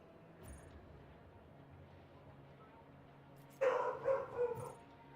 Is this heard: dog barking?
yes